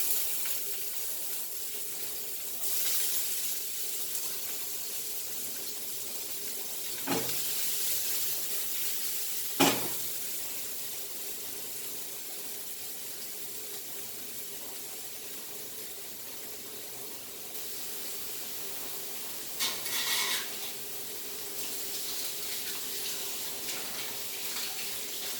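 Masala egg bhurji fries in a pan with onion, chili, coriander leaves and dry spices, giving a steady, hissing sizzle throughout with a few sharp utensil clicks near the middle and end.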